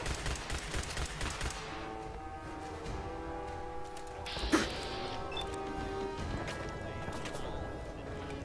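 Rapid bursts of gunfire from combat in the video game Fallout 4 Nuka World rattle through a dense, noisy mix, with a sharp louder crack midway and continuous action sounds around it.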